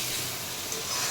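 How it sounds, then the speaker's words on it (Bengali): Shrimp seasoned with salt and turmeric fry in hot oil, giving a brief, even, faint hiss of sizzling. "এবার চিংড়ি মাছটা ভাজবো।"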